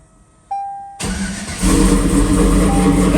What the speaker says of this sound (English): I was wondering why you didn't really hear the turbo much